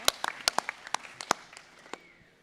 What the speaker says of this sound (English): Round of applause for this young man in the green shirt.